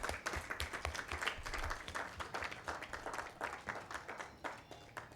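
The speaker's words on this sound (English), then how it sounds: "give them a round of applause" An audience at a youth upskilling launch event gives a round of applause for vocational institutions, a dense, steady patter of many hands clapping close by for several seconds.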